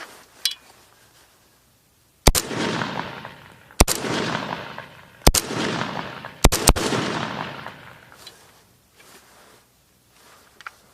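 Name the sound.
AKS-74U rifle gunfire at the range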